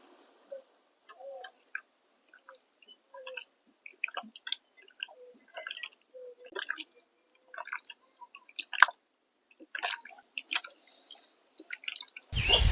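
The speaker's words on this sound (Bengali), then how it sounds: "এবারে সবকিছু একসাথে খুব ভালোভাবে ম্যারিনেট করে নেব।" Wet squishing and slapping as a hand kneads chicken pieces in a marinade with salt and sugar, scattered close moist squelches in irregular bursts over otherwise quiet background.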